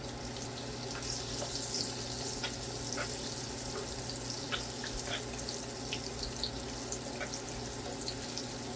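Foraged backyard food sizzles and spits in a pan of oil, a soft, steady crackle with scattered small pops over a low background hum, fairly faint and with no one talking.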